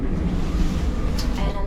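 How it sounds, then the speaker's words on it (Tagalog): Strong stormy wind gusting in Finland, a steady loud rush of wind noise buffeting the microphone throughout, with no clear talk over it. "Grabe ang lakas ng hangin"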